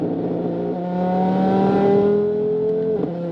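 An Audi RS3 on about 38 pounds of boost revs through a rolling pull, its steady engine drone rising and holding loud and close for a few seconds before easing off, with no talk.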